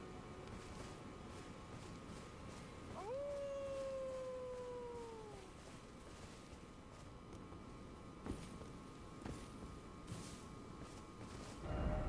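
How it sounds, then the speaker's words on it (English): A single wolf howl from the Elden Ring game world rises at about three seconds and holds a long, sliding tone for a couple of seconds before fading, set over a steady ambient bed with a few soft thumps afterward. "where's that howling coming from?"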